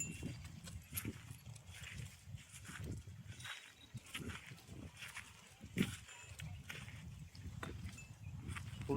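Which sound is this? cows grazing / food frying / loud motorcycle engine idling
cows grazing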